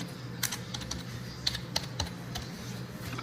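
Computer keyboard typing while entering a table in Microsoft Excel: a few sparse, quick key clicks with short pauses, close and fairly quiet, with no talking.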